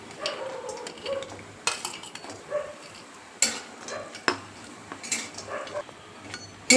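Grated coconut is roasted in a little oil in an iron kadhai, with a spatula scraping and clinking against the pan in sharp, irregular strokes over a faint, soft sizzle.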